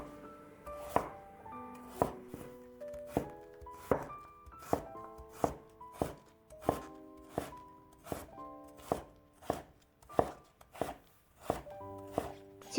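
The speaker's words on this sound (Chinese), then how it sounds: "再准备1根去皮的胡萝卜，先斜刀切成好看的菱形片" A knife slicing a peeled carrot at an angle into diamond-shaped pieces on a cutting board: about fourteen crisp, evenly spaced chops, close and clear against a quiet background.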